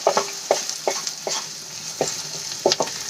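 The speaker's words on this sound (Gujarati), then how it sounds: "તો બે મિનિટ માટે આપણે એને સાંતળી લઈશું" Vegetables being sautéed in a pan for a Maggi noodle snack, with a spoon scraping and stirring in irregular clacks over a soft, steady sizzle, no voices.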